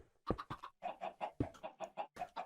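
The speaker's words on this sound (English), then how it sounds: "look at the baby little chicken" A baby chicken in the Minecraft video game clucks in a rapid series of short, sharp clucks, about a dozen in quick succession, heard clearly with no talk.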